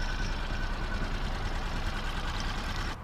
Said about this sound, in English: I have a new outboard.